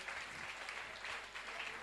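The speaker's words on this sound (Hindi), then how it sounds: "आप तालियों के द्वारा कीजिए।" A gathering at a Jain religious discourse honouring guests breaks into applause, a faint, distant, steady patter of many hands clapping with no voice over it.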